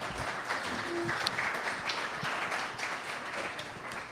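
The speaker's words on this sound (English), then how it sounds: "let's give George a round of applause" Audience at a developer meetup applauding a speaker, a soft, steady wash of many hands clapping at a distance, faint and even throughout with no voices.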